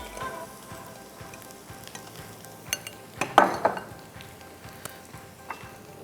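Potatoes fry in very hot oil with the stove turned off, giving a soft, low sizzle broken by a few sharp clinks and scrapes of utensils.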